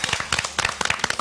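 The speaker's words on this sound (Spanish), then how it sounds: "así que también le demos un aplauso a la pincha" A crowd at a campaign closing event in Bolivia claps in a quick burst of sharp, dense hand claps, loud and close, fading and swelling over about a second.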